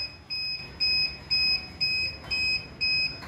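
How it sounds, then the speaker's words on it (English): An Arduino anti-sleep alarm buzzer on a driver drowsiness detection setup beeps in a steady repeating pattern, about six short electronic tones at even intervals, clear and close with no voices. "the buzzer makes sound and"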